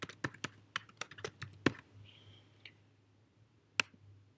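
Keystrokes on a computer keyboard while creating a new note in Evernote, clear separate clicks in an irregular run with a short pause midway and one last sharp tap, close and alone with no voices.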